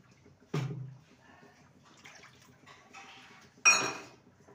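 Two bowls of water poured into a wok (kadai) while making chushi pithe: a short splash with a low gurgle, quiet liquid trickling, then a louder, brighter pour near the end.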